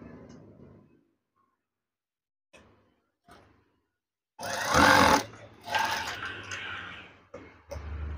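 A sewing machine stitches a folded hem into curtain fabric. A short quiet run is followed by a long, loud, close burst of rapid mechanical stitching, with brief thumps and handling noises between stretches.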